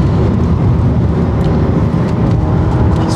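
Alfa Romeo Giulia 2.0 turbo sedan under hard acceleration, a loud continuous engine and road roar heard from inside the car with no talk over it.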